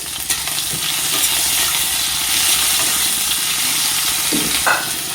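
Tomatoes fry and sizzle steadily in a pan for a Bengali bhola fish and spinach curry with mustard paste, a continuous close hiss broken by a few brief stirring scrapes, with no talking.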